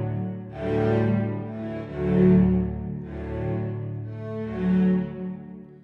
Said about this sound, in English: This detache will sound like this on the cellos.